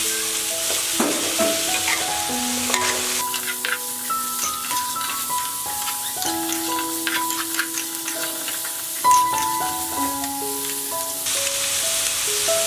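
Sweet and sour pork ribs sizzle and fry in a pan while being stir-fried, a steady crackling hiss with scraping stirs, and music with melodic tones plays throughout.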